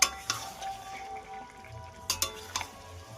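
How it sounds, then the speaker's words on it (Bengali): Unmarinated chicken goes into a pan for a thin chicken curry, frying with a low steady sizzle under several sharp metallic clinks and scrapes of a utensil against the pan, close by. "তো এবার আমি চিকেনটা দিয়ে দেবো।"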